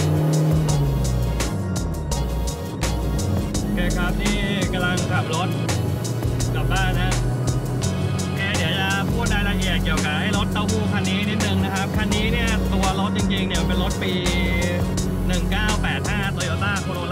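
A Toyota AE86 GTS with a twin-cam engine drives along with a steady engine drone and road noise throughout, while someone talks continuously over it.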